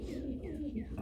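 Young pigeons coo softly in a short run of low, repeated throaty coos, faint and somewhat distant, with no one talking.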